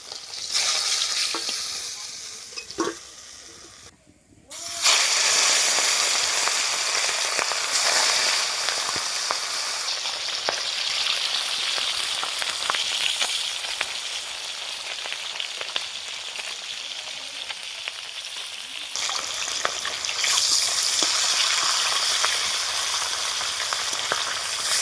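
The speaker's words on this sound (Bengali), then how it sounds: "আমি এই মাছ ভাজার তেলেই পেঁপে আলুটা ভেজে নেব" Papaya and potato fry in oil left over from frying fish, making a loud, continuous hiss and crackle. The sizzle dips briefly near the start, then surges back, with occasional stirring scrapes in the pan.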